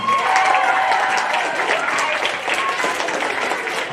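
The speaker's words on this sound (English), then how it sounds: "Huge round of applause" A school assembly crowd gives steady, loud applause for a student award winner at an elementary school, sustained clapping filling the room throughout with a faint tonal whistle early on.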